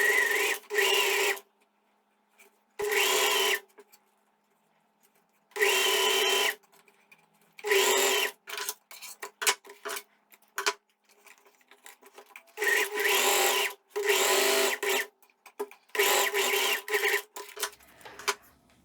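A sewing machine runs a fabric strip in loud bursts of rapid stitching, stopping and restarting many times with quiet pauses between runs.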